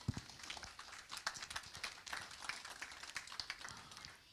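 Applause for livestock exhibitors at a winter farm show, where bull classes are judged: a modest crowd claps in a dense, continuous patter that stays fairly even for several seconds.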